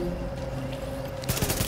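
A quick burst of rapid gunfire from the video game Tom Clancy's The Division on PS4 breaks in near the end over a steady game soundscape, with no talk.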